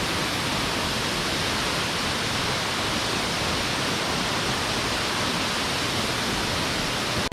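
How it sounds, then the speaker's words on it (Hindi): Delari waterfall near Raigarh: a steady, dense roar of falling water, loud and unbroken throughout, with no voices. "तो ये है देलारी वाटरफॉल"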